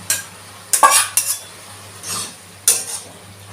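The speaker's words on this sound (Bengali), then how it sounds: "এবার আমি এর মধ্যে দিয়ে দেব এই আলু চিংড়ি মাছ কষানো মশলাটা" A spoon clinks and scrapes against a pot as shrimp and potato masala is mixed into boiled cabbage, a few separate loud strokes over a quiet low hum, no speech.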